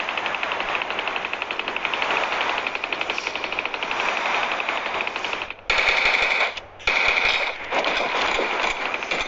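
Rapid automatic gunfire in the cartoon battle-royale shooter Sausage Man, a loud, nearly unbroken rattle that cuts off briefly twice before resuming.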